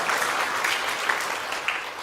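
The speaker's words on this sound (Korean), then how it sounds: "감사의 박수 부탁드립니다." Audience at a 70th-anniversary thanksgiving service clapping in thanks for former officers, a steady, even wash of many hands kept up throughout, moderately close with no talk over it.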